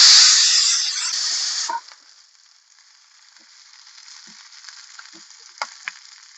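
Onions frying in a pan for bassaru: a loud, steady sizzle fades abruptly after a couple of seconds into a quiet simmer with faint crackles and a few soft stirring taps.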